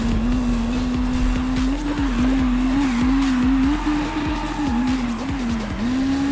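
Koenigsegg CCX supercar engine in the video game Need for Speed Rivals, a steady loud drone that rises and dips with gear shifts, with faint tire noise underneath and no talking.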